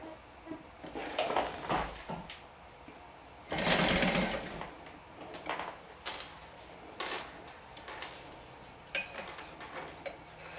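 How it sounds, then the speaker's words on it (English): A sewing machine stitches the top edge of a slip pocket in short, fairly quiet bursts with clicks and handling noises between them, close by and with no talk. "For the slip pocket, just stitch your 2 pieces right sides together around the top"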